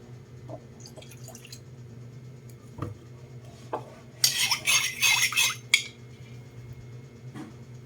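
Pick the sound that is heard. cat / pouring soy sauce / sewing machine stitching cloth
pouring soy sauce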